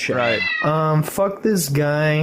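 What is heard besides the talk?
pet cat meowing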